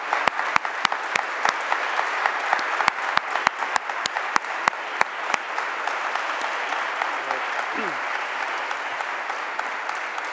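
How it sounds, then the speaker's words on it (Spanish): Audience applause closing a lecture on Spanish religious and military history, a dense wash of many hands clapping with a few sharp louder claps up front, fading to a softer steady patter toward the end. "darle un fuerte aplauso"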